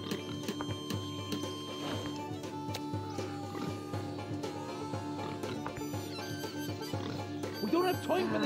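Pig oinking in the RuneScape video game, with grunts scattered through dense game sounds, music and clip-clop noise over the whole stretch.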